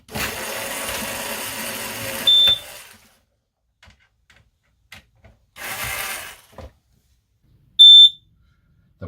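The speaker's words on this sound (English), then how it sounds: "sensor alarm is warning me that the battery's low." Propane sensor alarm in a camper trailer chirping for a low battery: two short, sharp high beeps several seconds apart, heard between bursts of mechanical whirring and faint handling noises.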